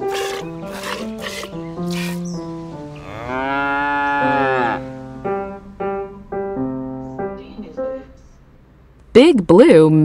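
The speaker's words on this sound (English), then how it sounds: "Big Blue milked a cow when he visited the farm." Cattle mooing on a farm: a long, loud, drawn-out moo in the middle, set between stretches of sung or spoken voices, with a shorter sharp sound near the end.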